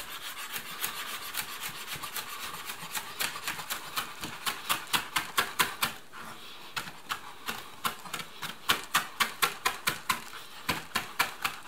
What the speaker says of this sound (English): I will cut off and discard the stems, but you can use it as well